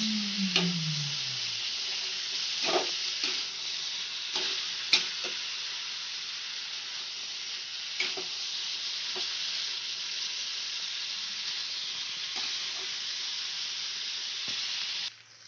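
Black chickpeas and potatoes stir-fried in a pan with spices give off a steady, loud broadband sizzle, broken by occasional scraping clicks of a spatula, continuous throughout with no talking.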